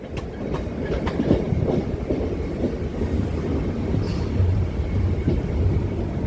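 A train at Ennore railway station on a suburban line gives a loud, continuous rumble with rhythmic wheel clicks over the rails, heard close with no voices.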